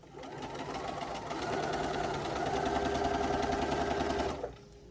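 A sewing machine stitches fabric pieces together in one continuous run, a fast even mechanical whirr with rapid needle clatter that swells slightly before stopping abruptly near the end.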